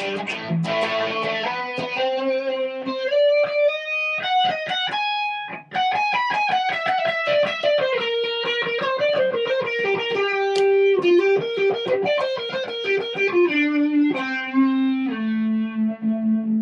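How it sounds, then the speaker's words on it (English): An electric guitar with heavy distortion plays a sustained, melodic line of held notes, loud and saturated, through a Peavey Vypyr modeling amp. "So it's got a good distortion on it."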